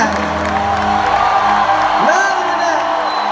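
A large arena concert crowd at The Forum roars, whoops and shouts together in a dense, sustained wall of cheering, with a few louder individual yells rising above it.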